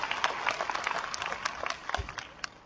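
Audience applause at a ceremony in Lucknow welcoming a power corporation chairman, a fairly faint, steady patter of many hands clapping with some sharper individual claps standing out.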